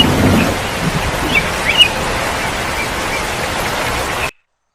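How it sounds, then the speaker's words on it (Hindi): Heavy rain in a cartoon forest pours as a loud, steady hiss throughout, with a few faint bird chirps near the start before it cuts off abruptly at the end. "एक दिन शाम को अचानक ही मौसम खराब हो जाता है और बहुत तेज बारिश होने लगती है"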